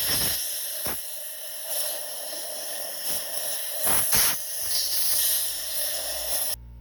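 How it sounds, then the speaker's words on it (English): Steady hiss of compressed air from an air hose blowing carbon debris out of a 3.5L twin-turbo EcoBoost engine cylinder head, with short sharp blasts, close and continuous. "I'm going to use an air hose and just blow that out."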